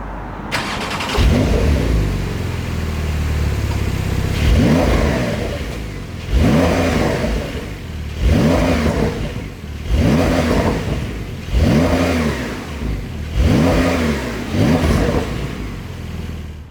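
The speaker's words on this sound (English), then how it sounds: "let's turn the car on, because it does sound good in sport mode" Porsche 911 Targa sports car engine starts with a whir and catch in sport mode, then settles into an idle broken by six regular, loud revs that rise and fall, each a couple seconds apart.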